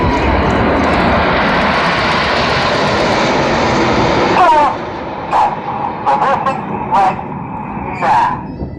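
Red Arrows jets roar overhead at the Sunderland Airshow 2016 while flying the Typhoon formation trailing red and white smoke, a loud sustained broadband rush that drops off midway, leaving crowd noise and a few short sharp bursts.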